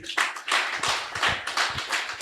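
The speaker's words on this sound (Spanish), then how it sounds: "dale un aplauso al rey" A church congregation claps during a sermon, a short burst of fairly close, loosely rhythmic handclaps repeating through the moment.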